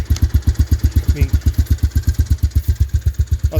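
A big red engine idles steadily after a cold start, its loud, even chugging pulses filling the clip up close, with a brief spoken word over it.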